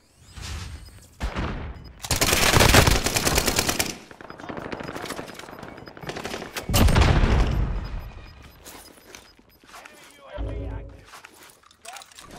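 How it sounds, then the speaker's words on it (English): Bursts of automatic gunfire crack and roar over a battlefield as a grenade is thrown, the loud volleys coming in waves with a short heavy thud near the end. "Throwing grenade."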